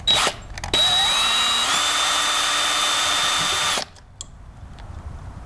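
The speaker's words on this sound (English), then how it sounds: "I've got my drill set on reverse." A power drill running in reverse backs a screw out of a door deadbolt, whirring loudly and close for about three seconds, its pitch shifting slightly as it bites, then it stops and only faint handling sounds remain.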